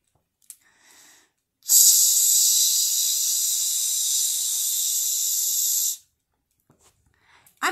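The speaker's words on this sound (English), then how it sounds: "There's too much steam." A loud, steady hiss of steam bursts in and holds for about four seconds before cutting off abruptly, with near silence on either side.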